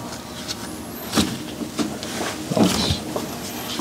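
Nissan RB26 engine crankshaft turned by hand after installation, giving a low, steady mechanical whir with intermittent scraping clunks and rubs, close and moderately loud.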